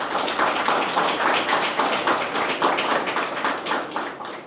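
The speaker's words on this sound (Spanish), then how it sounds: "Yo quiero también un fuerte aplauso para mi equipo." An audience claps steadily at a history exhibition in Sosúa, a dense, even applause that carries on without a break.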